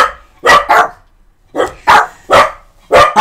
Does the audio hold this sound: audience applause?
no